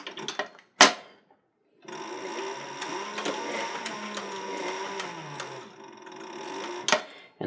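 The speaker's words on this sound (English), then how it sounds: "stitch until we go off the edge" Sewing machine stitching a leather bandolier strap, running in a steady rapid mechanical whir for several seconds after a few sharp clicks and knocks, close and fairly quiet, with no talking.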